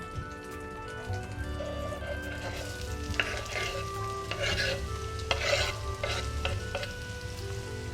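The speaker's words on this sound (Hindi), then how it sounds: "इसको हम थोड़ी देर के लिए हल्का से इसको भूनते हैं और उसके साथ हम डाल देते हैं हमारी प्याज जो हमने बारीक काटी है" Finely chopped onions and okra fry in a pan for masala bhindi, giving a steady, close sizzle with intermittent scraping stirs and clinks throughout.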